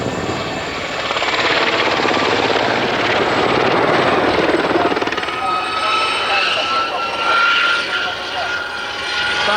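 A Royal Navy display-team helicopter flies an air-show manoeuvre, its loud rotor and engine roar filling the whole stretch with steady blade chop, shifting in tone as it climbs and turns.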